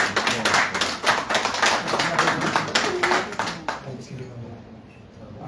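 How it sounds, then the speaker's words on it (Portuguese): A crowd claps in a dense burst of applause that thins out and fades toward the end, with voices faintly underneath. "Mais palmas, por favor."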